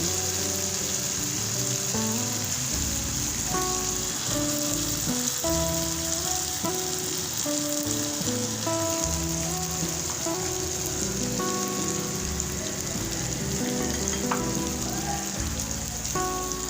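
Pieces of fish laid into a pan of fried masala for a curry give off a steady, soft sizzle and crackle that runs continuously and fairly quietly throughout, with no talking.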